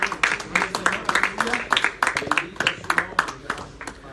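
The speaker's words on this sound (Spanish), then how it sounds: "fuerte aplauso al Señor, hermano" A church congregation claps loudly and steadily, a dense run of sharp hand claps filling the space, with voices calling out beneath the applause.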